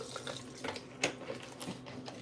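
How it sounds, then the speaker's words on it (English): Water pours from a container into a blender jar for a smoothie, a short, soft splashing trickle heard up close with a few gurgles. "and I'm gonna add some water"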